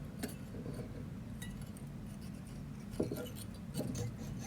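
Metal tube being cut by hand for jewelry rings, a faint, soft scraping and rubbing with a few light clinks, close and quiet, with no speech.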